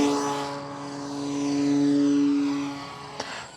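FMS Ranger 1800mm electric RC airplane flying overhead, its propeller whine rising as it approaches and fading as it passes, with a steady tonal buzz and a short click near the end.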